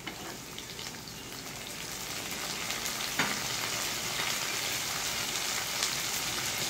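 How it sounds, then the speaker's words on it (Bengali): Jackfruit seeds frying in a spice paste, a constant crackling sizzle with a few clicks and a sharp tap partway through, close and steady with no voices. "এখন আমি কাঁঠালের বিচিগুলো দিয়ে দিব"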